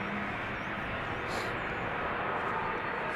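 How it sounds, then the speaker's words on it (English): A Delta Airbus A330 airliner taxiing onto the runway at Amsterdam Schiphol Airport gives a steady, distant jet engine roar with broad hiss, constant in level throughout. "Delta A330. This one at least seems to be going onto the runway."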